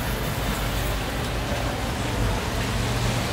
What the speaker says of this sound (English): The rain's starting to pick up again.